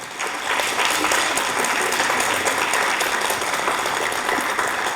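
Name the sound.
audience applause at a ceremony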